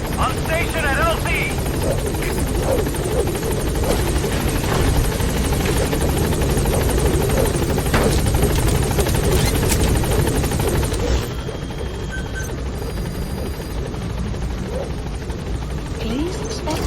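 Pequod helicopter from Metal Gear Solid V arriving at a landing zone, a loud steady rotor roar holding for about eleven seconds before dropping to a quieter hum, with game radio voices talking over it.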